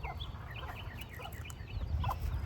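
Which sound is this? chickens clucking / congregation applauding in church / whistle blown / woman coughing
chickens clucking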